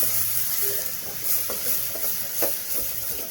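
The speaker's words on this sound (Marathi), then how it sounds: "नंतर हा मसाला चांगला तेल सुटेपर्यंत व्यवस्थित परतून घ्यायचा आहे." Masala paste with 2 to 3 spoons of coriander powder frying in oil for a spicy brinjal curry, a steady close sizzle with a few soft stirring scrapes and clicks, no voices.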